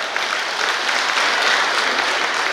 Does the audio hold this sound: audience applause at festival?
yes